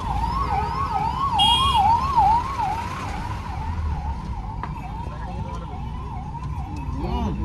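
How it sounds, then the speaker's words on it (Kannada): Wailing ambulance siren sweeping up and down steadily through road traffic in Karnataka, loud and continuous, with vehicle rumble and a brief horn underneath. "ಆಂಬ್ಯುಲೆನ್ಸ್ ಯಾಗ ಬಿಡ್ರಿಪ್ಪ"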